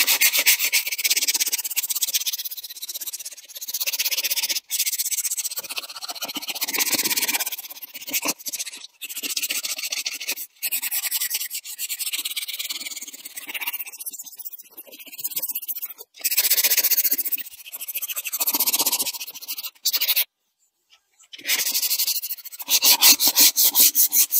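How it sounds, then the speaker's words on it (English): Dried Bondo filler on a car wheel is sanded by hand, with long, steady raspy scraping strokes broken by brief pauses, close and loud. "I just completed sanding the entire wheel after I had applied the Bondo, let it dry."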